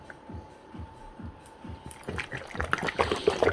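Greek salad dressing pours onto a salad, starting with soft drips and squishy glugs that grow into a louder, busier liquid splatter toward the end, heard alone and close.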